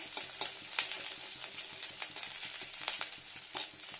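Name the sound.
ginger frying in a pan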